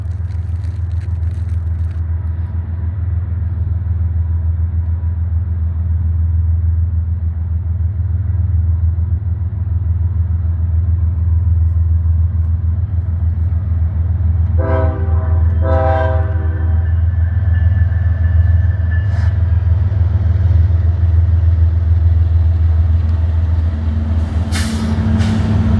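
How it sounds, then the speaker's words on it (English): An empty Norfolk Southern coal train rolls past in Kenova, West Virginia, with a loud, continuous low rumble of wheels and cars. Midway through, the horn sounds twice in blasts, and a short high squeal comes near the end, with no voices. "Friendly wave and a horn salute on an empty coal train."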